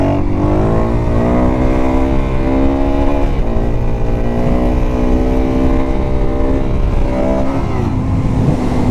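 A Suzuki DRZ400SM supermoto engine revs hard during a wheelie, its pitch climbing steadily and dropping twice as the rider clicks up through the gears, loud and close throughout.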